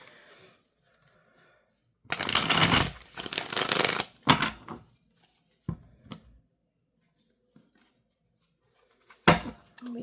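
Oracle cards shuffled sideways in the hands, a few loud rustling bursts of riffling followed by scattered softer taps and slides of the deck, close and with no talking.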